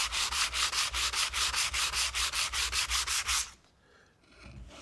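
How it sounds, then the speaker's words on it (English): Wooden board sanded by hand with sandpaper along the grain: a fast, even series of about fifteen close, raspy strokes back and forth, stopping abruptly, followed by quiet room tone. "So if I were to sand this board, and I was just using this sandpaper, I would sand like this."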